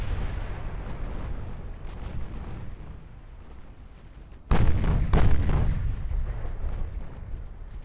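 Heavy warship turret guns fire in a naval battle in Ultimate Admiral: Dreadnoughts, a sudden loud booming salvo about halfway through, trailed by a second blast and rumbling over a constant background roar.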